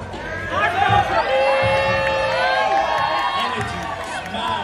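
Crowd at a Red Bull BC One Cypher Pakistan breakdance battle cheering and whooping loudly and steadily throughout, a dense roar of many voices with shouts rising over it.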